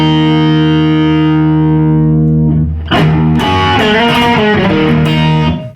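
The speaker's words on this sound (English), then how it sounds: "So this is channel B set with the distortion switch on, and this gives you a lot more distortion." Electric guitar played through a Duellist dual overdrive pedal on channel B with the distortion switch engaged: a long sustained distorted chord rings out, then fresh strummed and picked chords with heavy saturated grit, loud and alone.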